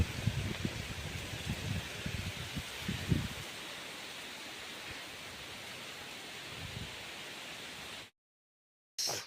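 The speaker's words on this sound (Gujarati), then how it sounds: "જુઓ મિત્રો કેવો વરસાદ આવે છે જુઓ" Heavy rain pours outdoors in a village during the cotton-picking season, a dense, steady hiss that runs unbroken for most of the stretch before cutting off abruptly near the end.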